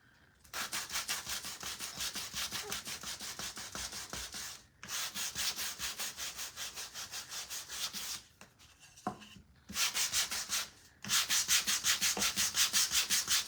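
Sandpaper rubbed by hand over a wooden craft piece, worn paper giving rapid rhythmic scratching strokes in several bursts with short pauses, close and fairly quiet, no talking.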